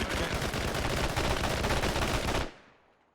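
Sustained, loud rapid gunfire from a military-style video game, dense overlapping automatic bursts for a couple of seconds before cutting off sharply into a fading echo.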